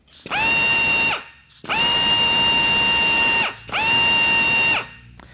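Rotary gearbox on a WOMA high-pressure water jetting rig whirring loudly in three sustained bursts, each about a second or two long with brief pauses between, a steady mechanical whine heard close up with no talk.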